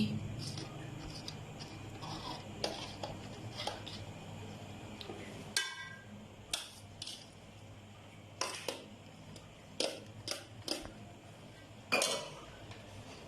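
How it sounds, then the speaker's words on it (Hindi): Pasta is stirred into a creamy chicken white sauce in a pan, giving scattered close metallic clinks and taps of a utensil against the pan over a low background hum. "अब पास्ता इसमें मिक्स कर दूंगी"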